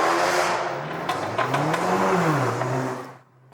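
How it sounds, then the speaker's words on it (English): A car engine revs up and back down with a rising then falling pitch, loud and close, sharp exhaust pops crackling over it before it cuts off. "It is, of course, the revving and popping of an exhaust."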